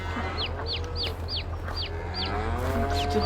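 Chickens in Farming Simulator 22 cluck in a quick series of short, evenly spaced calls over a constant low hum.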